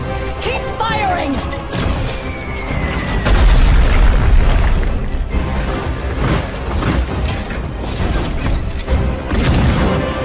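Cannon fire booms through a World of Warcraft cinematic battle scene, loud low-frequency blasts that repeat and thud over a dense rumbling mix of music and combat noise, with voices shouting between.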